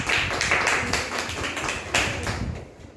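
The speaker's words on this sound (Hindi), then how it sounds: "ताली बजाइए इनके लिए।" A classroom full of students claps together, dense steady applause swelling twice and tapering off, with no talking over it.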